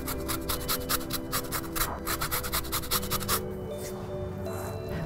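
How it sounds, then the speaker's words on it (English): Lemon zest grated off a lemon: quick, rhythmic rasping strokes, about a dozen short scrapes close by, then stopping near the end. "and that is some lemon zest"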